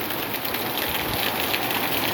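Heavy rain falling in Madurai, a loud continuous wash of drops pattering on hard surfaces nearby, even and unbroken throughout.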